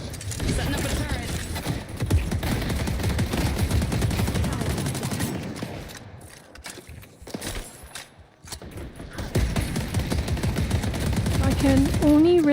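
A turret fires in a video game with dense, rapid rattling bursts of gunfire that drop into a brief lull midway and then resume at full loudness.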